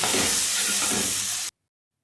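Boiled mango dropped into a hot tempering of dried chili and mustard seeds: a loud, hissing sizzle with steamy spray, steady for about a second and a half before cutting off abruptly to silence.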